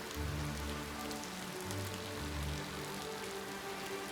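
Steady rain falling on surfaces in a video game, a continuous broadband hiss with a low tonal music-like hum underneath, moderately quiet and constant throughout without talk.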